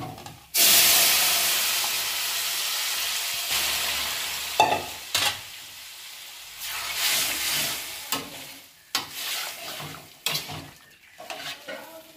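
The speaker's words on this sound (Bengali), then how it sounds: "এখন এই শাকটা আমি ঢেলে দিচ্ছি।" Katoya data greens hit hot oil with browned garlic in a pan, setting off a loud sudden sizzle that settles into steady frying hiss, broken by scraping stirs and clatter.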